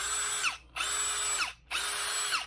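A Hart cordless drill whirs up in three close, loud bursts, each revving steadily and then winding down through a brief gap before the next, with no talking.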